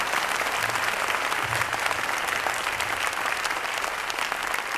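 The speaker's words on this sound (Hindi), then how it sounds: "अपने लिए जोरदार ताली बजाइए।" An audience at an indoor meeting-hall event in Kolkata claps hard and steadily, dense applause filling the whole stretch at an even, loud level with no speech over it.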